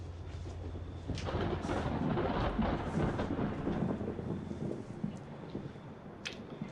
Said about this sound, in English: It's about to start raining.